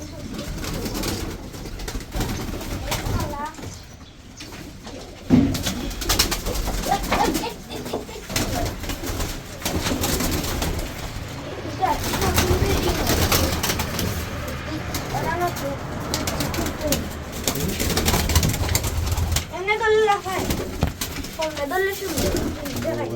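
Pigeons coo at a village house in soft repeated calls, heard under people talking, with faint road traffic passing in the background.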